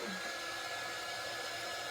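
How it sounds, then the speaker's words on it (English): A hair dryer blows with a steady, continuous whoosh, loud and close, with no talking. "I am going to hit it with the dryer though."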